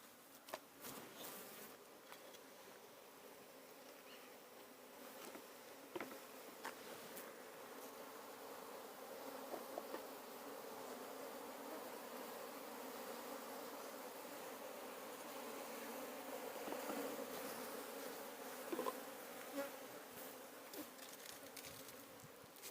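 A swarm of bees buzzes steadily around an old wooden honeycomb, a continuous close drone with occasional flybys and faint rustling, no voices.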